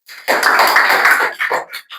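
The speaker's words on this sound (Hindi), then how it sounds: "इसके लिए एक जोरदार ताली बजाइए" A classroom of students in a Class 10 maths lesson bursts into loud, close applause, a dense clapping roll lasting about a second, then a few scattered trailing claps.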